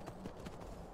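Horse hooves clip-clop in Skyrim, a quick run of sharp, evenly spaced hoof strikes heard close and fairly loud over a soft background.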